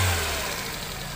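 Petrol Chevrolet Beat engine running after a spark plug change, a steady close idle hum with a low rumble that eases slightly over the short stretch, no voices.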